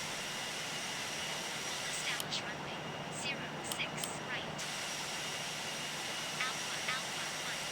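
A British Airways jet airliner taking off at Heathrow gives a faint, steady roaring hiss throughout, with a few brief high chirps over the constant rush.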